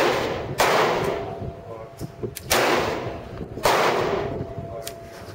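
Three sharp FN Five-seveN pistol shots crack out at an outdoor range, spaced roughly a second or more apart, each a loud close report with a brief echo tail, amid faint background murmur.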